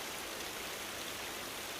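Steady rain pouring down in an anime samurai scene, a dense continuous hiss of falling water with no voices, even and unbroken throughout.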